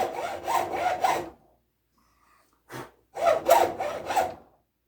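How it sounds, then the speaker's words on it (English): A flexible hacksaw cuts wood for a rocking chair in two bursts of rapid back-and-forth strokes, each about a second long, separated by a short pause with one brief scrape, close and fairly loud with no talk. "this hacksaw is flexible, and if I need to steer, if I need to steer the cut"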